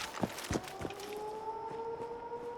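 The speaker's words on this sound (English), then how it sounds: "I can hear that siren going off." A faint, distant siren wails in a sustained rising tone in Fallout 76, with a few soft footstep-like thuds early on, no talking.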